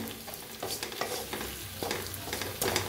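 Bitter gourd roasting with masala in a hot pan, close sizzling and frying with repeated scraping strokes of a stirring spoon at an uneven rhythm, no voice over it.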